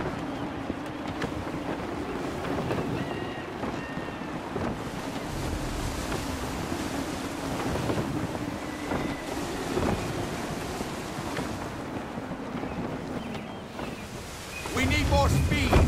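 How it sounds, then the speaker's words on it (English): Gusty wind and rushing sea surf aboard a sailing ship in the video game Assassin's Creed III, a steady loud roar of wind and waves throughout, swelling near the end, with no talking. "Gusty winds can be difficult to manage."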